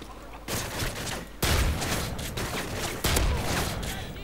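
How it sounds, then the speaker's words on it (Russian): Airstrike in Call of Duty Modern Warfare 3 survival mode on Seatown: a rapid barrage of loud explosive blasts and gunfire, with heavy impacts striking at about three points among continuous crackling fire. "Вот, авиаудар."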